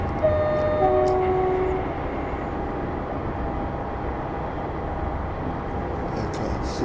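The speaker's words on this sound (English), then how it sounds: "Class 66 freight train, first 66 we've seen." A Class 66 diesel freight train in the Train Sim Classic game rumbles past with a steady low drone and faint high tones, a brief horn-like whine at the start, continuous and moderately distant.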